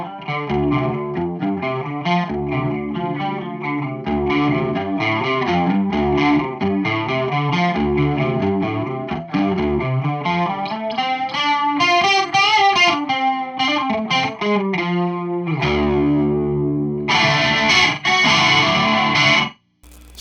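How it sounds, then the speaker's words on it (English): Electric guitar played through a chorus pedal into a Randall Diavlo RD1H amplifier, shimmering and wavering, with chords and runs continuing steadily for about twenty seconds, no voices. "So pretty effective chorus pedal effect."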